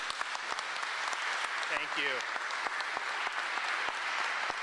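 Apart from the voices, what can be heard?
applause for a governor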